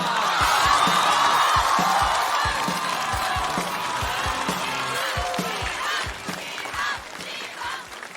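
A live stand-up comedy audience claps and cheers as the comedian Xiha is called to the stage, a dense wash of applause with whoops, loudest at first and gradually thinning out.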